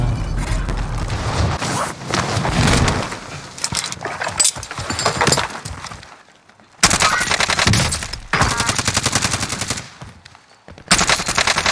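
Automatic gunfire from an OTS-9 in the shooter game Warzone: loud rapid bursts broken by short silent gaps, mixed with clinks and rattles of gear.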